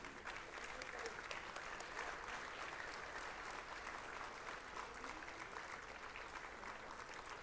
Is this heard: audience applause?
yes